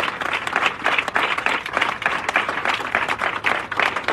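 A church congregation stands and applauds, a dense, steady wave of many hands clapping that carries unbroken from start to finish, loud and close, with no talking over it.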